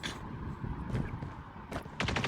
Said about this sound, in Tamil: இந்த மிஷின் கன் சூப்பராக அடிக்குது இப்போலாம்